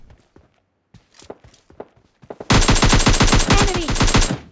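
Automatic gunfire in PUBG Mobile Lite bursts in loud and fast after quieter footsteps, a rapid continuous string of shots lasting about two seconds, up close.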